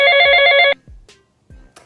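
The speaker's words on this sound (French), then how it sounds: "une sonnerie de téléphone." A telephone ringtone chirps loudly and close by for under a second, a bright harmonic electronic trill, followed by a few soft knocks and small noises in an otherwise quiet room.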